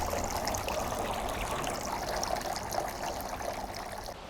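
Water trickling in a freshly cleaned garden fountain, a continuous close splashing babble with no pauses or voices.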